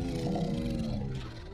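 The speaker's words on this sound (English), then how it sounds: "Might not even be a cave lion, might just be a wolf. It's a cave lion." A cave lion in the video game Far Cry Primal lets out a deep, sustained roar, loud and close, rumbling for over a second before trailing off, with no talk over it.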